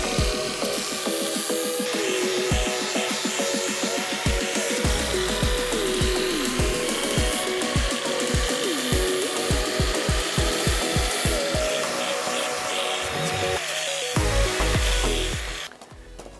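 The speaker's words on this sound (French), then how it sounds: "On va tout limer, tout nickel." A steel knife blade being filed by hand during knife making, steady rhythmic rasping strokes repeating close and loud throughout, with no talking.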